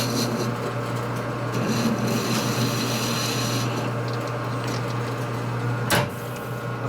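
A dull drill bit rubbing against a metal part on a 1972 Harley-Davidson XL Ironhead Sportster, giving a steady grinding scrape over a constant motor hum, with a brief sharper scrape near the end.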